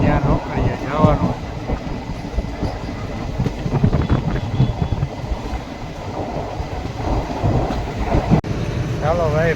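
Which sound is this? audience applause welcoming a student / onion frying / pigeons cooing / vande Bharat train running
vande Bharat train running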